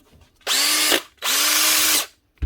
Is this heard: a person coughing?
no